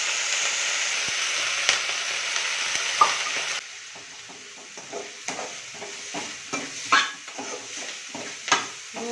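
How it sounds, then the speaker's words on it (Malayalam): Egg with drumstick leaves frying in a pan, a bright close sizzle that drops after a few seconds into intermittent spatula stirs and scraping clinks, crackling steadily without any voices. "മുരിങ്ങയില ഇട്ടിട്ടുള്ള മുട്ട പൊരിക്കലാണ്."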